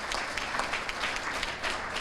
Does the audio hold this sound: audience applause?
yes